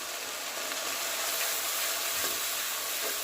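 Sliced onions frying in hot oil in a pan with green chilies, cooked until lightly browned for a bottle gourd and taki fish dish; a steady, even, close hiss of sizzling with faint stirring, no voices.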